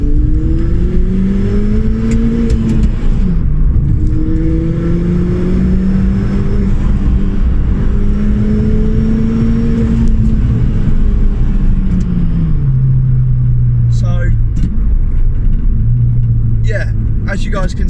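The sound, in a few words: modified Ford Fiesta ST accelerating through second gear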